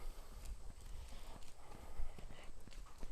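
Hooves of a two-year-old Oldenburg horse clip-clopping at a steady walking rhythm through a training session, fairly close and moderately loud, with no talking.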